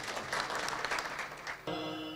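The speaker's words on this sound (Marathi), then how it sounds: "टाळी वाजवा." Audience at a comedy kirtan clapping together: a dense burst of applause from a crowd, steady for about a second and a half before giving way to a sustained tonal sound, heard fairly close and without talk.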